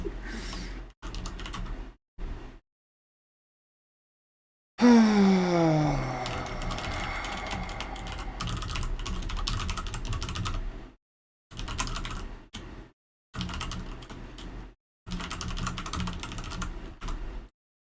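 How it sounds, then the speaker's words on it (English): Keys on a computer keyboard are pressed in quick clattering bursts with short pauses between them, close and fairly loud, alongside a brief tonal sweep near the start of one burst. "So I'm just gonna press the button on my keyboard until I figure out the mouse thing."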